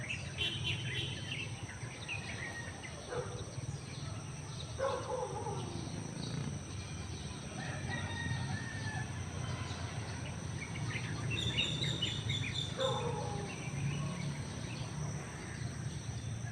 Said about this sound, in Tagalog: ayan ang apat na ibon